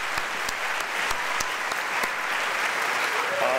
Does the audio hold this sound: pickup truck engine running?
no